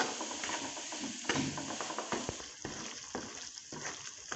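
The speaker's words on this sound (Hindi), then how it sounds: "हम हल्की आंच पे सूजी को 5 मिनट के लिए थोड़ा सा भूनेंगे।" Semolina roasts in cooking oil over low heat while being stirred, a soft continuous sizzle with scraping strokes and small clicks from the spoon against the pan, close and fairly quiet.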